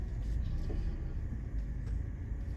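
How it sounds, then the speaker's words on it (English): A 2018 Mazda CX-5 SUV rumbles at low pitch from inside the cabin, a steady engine and road drone as it pulls away, no voices heard. "I'll start it up. And we're rolling."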